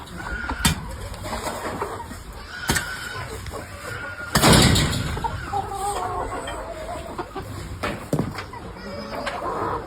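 Chickens clucking intermittently amid a noisy farmyard, with a voice talking and scattered clatter.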